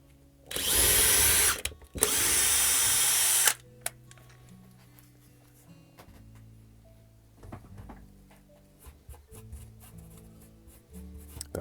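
A small power drill with a 2.5mm bit whirs loudly in two short bursts, drilling holes for model railway track wires, followed by quieter tapping and handling noises.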